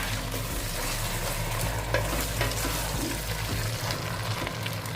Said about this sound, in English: And then you're just going to give them a good stir.